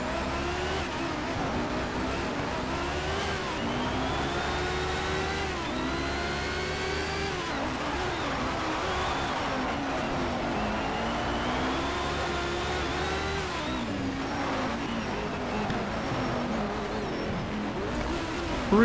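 Race car engine in Need for Speed Shift 2 drifting through corners, a sustained loud roar that repeatedly revs up and falls as the car slides, with gear shifts and continuous tire noise throughout.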